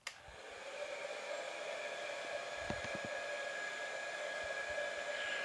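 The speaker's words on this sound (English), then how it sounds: "Now here we are using a hairdryer" A 2000-watt hair dryer on its lowest setting, powered by an EcoFlow River Max power station, runs steadily with a constant whooshing hum and a high whine, starting abruptly and continuing unchanged to the end.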